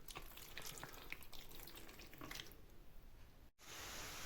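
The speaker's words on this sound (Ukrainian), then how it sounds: "треба додати там 100 г води" Water runs steadily from a tap into a bowl of marinated chicken for jerky, a constant hiss that cuts off sharply near the end and gives way to a different flat noise.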